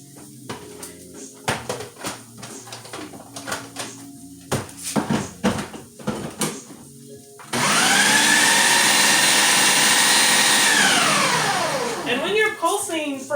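A Ninja food processor pulses cauliflower into rice: first loose clattering and knocks as pieces drop in, then a loud steady whirring motor roar for several seconds that winds down and stops, close up.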